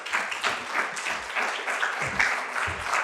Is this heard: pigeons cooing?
no